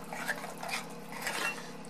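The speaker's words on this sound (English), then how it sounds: "We got our spoon still hanging around just for some stirring." Spoon stirring ingredients in a bowl, with quiet, close clinks and scrapes repeating lightly for a couple of seconds.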